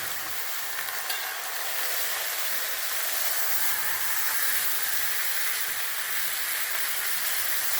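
Pork leg for a Jamaican pot roast fries in a pot with an even, continuous hiss and sizzle that holds at a moderate level, close by, with no voices.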